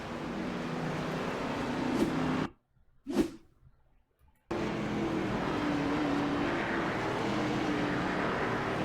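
Race cars on the final lap of a race roar steadily past, engine drone broken by a sudden gap with one sharp passing whine, then resuming at a constant moderate level.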